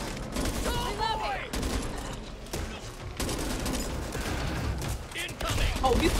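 Gunfire from several guns fills the zombie shooter Back 4 Blood, dense bursts and shots running almost nonstop at steady loudness, mixed with game effects and a voice briefly talking over the fight.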